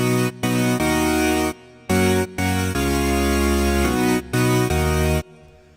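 A bright, buzzy Serum Hypersaw supersaw synth lead, unprocessed, plays sustained chords in short bursts with brief gaps, dry and loud, with a deep bass layer underneath.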